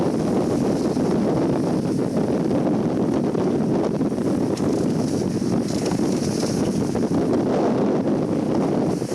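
Strong wind roars steadily across the microphone aboard a racing sailboat at sea on the open Atlantic, a loud constant rush with no breaks.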